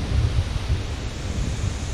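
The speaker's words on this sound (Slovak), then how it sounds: "keď takto silno fúka vietor" Strong wind buffets the microphone beside the Little Danube river, a steady low roaring rumble with gusty surges throughout and no voices.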